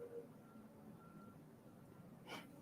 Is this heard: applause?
no